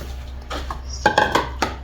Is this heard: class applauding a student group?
no